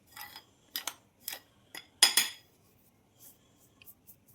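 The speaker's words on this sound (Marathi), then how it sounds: "आता हे चमच्याने मिक्स करून घेऊया." A spoon scrapes and clinks against a bowl while mixing semolina samosa dough, making a series of short, close metallic taps and scrapes in an uneven rhythm, with a louder clatter midway and fainter ticks toward the end.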